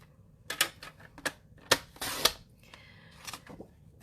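A paper trimmer cuts Crumb Cake cardstock for a small beach note card, making a series of sharp clicks and snaps at an uneven pace, with a brief scraping slide of the blade in the middle.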